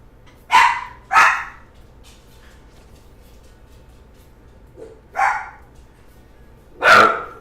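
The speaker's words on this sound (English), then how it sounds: "I gotta see what they're barking at." Dogs barking in Diablo 3, four sharp separate barks at close range, two in quick succession, then a pause, a softer yip, another bark, and a final loud one, over near silence.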